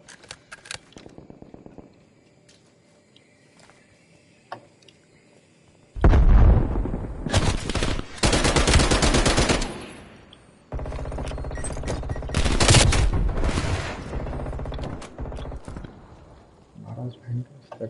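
Burst-fire gunfire in Call of Duty crackles in loud rapid volleys amid other game shots and blasts, while a player talks over the action.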